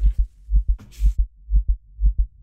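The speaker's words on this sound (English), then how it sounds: "we just have to endure the stupid heart beating" A slow, steady heartbeat from the video game Tunguska The Visitation plays as a low, loud lub-dub thump repeating about every half second, with a brief higher noise burst near the middle.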